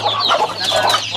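Rhode Island Red hens cluck in a nesting coop, a steady, close run of overlapping soft clucks and murmurs with no one talking.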